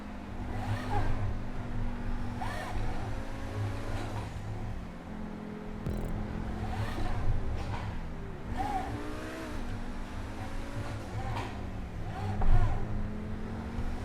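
A Pegassi Tempesta supercar in GTA 5 revs and shifts through gears on a fast lap, its engine pitch climbing and dropping repeatedly, loud and close throughout.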